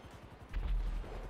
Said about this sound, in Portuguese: Última explosão, hein?